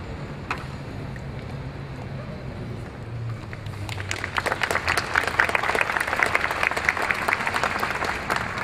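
Applause breaks out at a law school commencement ceremony for graduates receiving Master of Laws degrees. The clapping begins around midway, following a faint low murmur, then continues as a dense, steady patter from a sizeable crowd.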